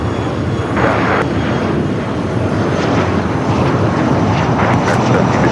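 A jet airliner takes off at Los Angeles LAX airport, a loud, steady roar of engines filling the whole stretch without pause, close and powerful.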